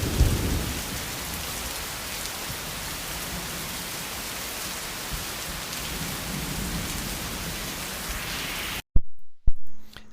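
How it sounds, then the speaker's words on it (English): Steady, heavy rain pours down in a dense wash of noise, heard from a porch, with a sudden loud thunder crack and rumble near the end. "Here was Saturday night's storm from our porch"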